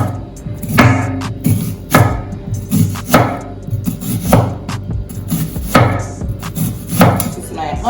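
Knife chopping onion and sweet pepper on a cutting board in a home kitchen, a steady series of close, crisp thuds with short pauses between bursts, no voices.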